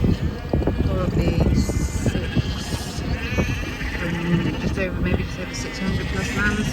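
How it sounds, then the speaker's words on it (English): Many lambs bleat across a field of fresh grass after the silage cut, overlapping calls near and far over steady wind, with someone talking throughout. "So it's quite a line of lambs out here now."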